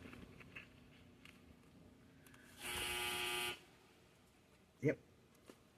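A single electronic clothes dryer buzzer sounds for about a second, a harsh loud tone standing out from quiet room noise, followed by a brief knock.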